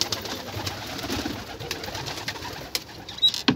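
A thirsty, dehydrated pigeon with red eyes coos softly close by, making low murmuring calls over faint background noise, with no speech.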